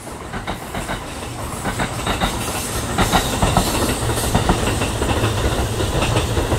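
Kintetsu train passing through Ise-Nakagawa Station in Japan, loud and close with steady rumbling and rhythmic clickety-clack of wheels over rail joints, alone without talk.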